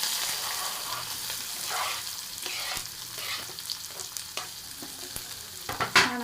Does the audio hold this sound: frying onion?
yes